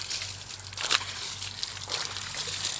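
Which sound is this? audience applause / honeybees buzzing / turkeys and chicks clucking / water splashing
water splashing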